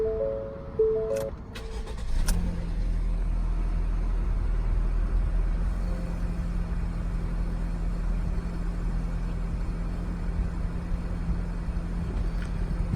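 A 2017 Ford Escape SE with a 1.5 liter EcoBoost four-cylinder engine cranks briefly after a few soft chimes, catches, then settles into a smooth, quiet, steady idle that continues close by.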